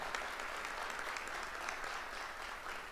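A room applauds the family of a new Hampton men's basketball coach at his introductory press conference, with steady, moderately distant clapping that holds evenly for a few seconds.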